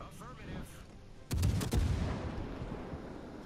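Naval guns firing at a target in the game World of Warships Legends: a loud burst of several rapid booming shots in quick succession, followed by a rumbling decay under faint background game sound.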